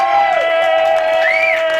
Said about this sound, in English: let's have some real applause